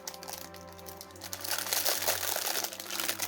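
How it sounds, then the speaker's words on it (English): Plastic packaging from a mould-making kit crinkled up close, a soft scratchy rustle that grows louder and busier partway through. "Oh, sorry about the crinkling."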